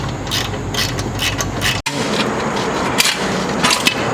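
A ratchet loosens the downpipe bolts on a 2020 GR Supra, with a sustained stretch of rapid clicking, a brief break, then more clicking with a few sharp metallic knocks.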